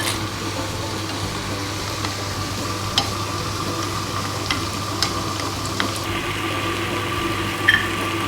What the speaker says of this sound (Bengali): একটা ছোট কড়াইয়ে আমি অল্প তেল দিয়েছি। এর মধ্যে আমি বড়িগুলো ভেজে